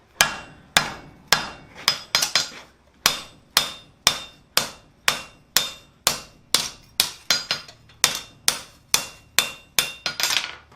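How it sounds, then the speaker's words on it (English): A blacksmith's hammer forging the waist of a metal flower coat hook, striking in a steady, loud rhythm of about twenty sharp ringing blows with a few quick double taps, close and alone without talk. "go ahead and forge out, go ahead and forge down the body or the waist there"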